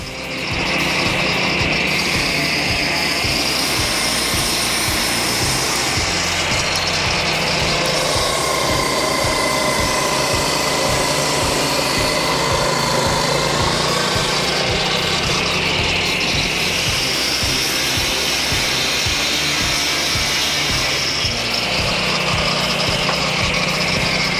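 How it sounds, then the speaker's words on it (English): A portable lumber sawmill engine runs steadily while cutting timber, a continuous loud, high-pitched droning hum with slight ratcheting texture and no talking, close by throughout. "This mill gives everyday woodworkers the ability to turn raw timber into a building material with precision and efficiency."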